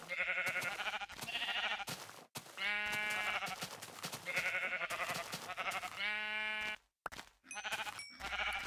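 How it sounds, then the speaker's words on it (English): Sheep in a Minecraft game bleat in a near-continuous run of loud, wavering calls, one after another with only brief gaps, close and dominant throughout. "Ooh, sheep."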